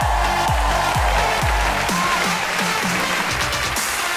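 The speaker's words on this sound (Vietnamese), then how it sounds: "hãy dành cho họ một tràng pháo tay thật lớn được không ạ?" Studio audience applause on a Vietnamese martial-arts music competition show, a steady, loud wash of clapping that fills the whole stretch, with a musical stinger playing underneath.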